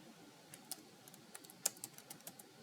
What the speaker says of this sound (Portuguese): Vou fechar o parêntese e aí vou apertar Enter.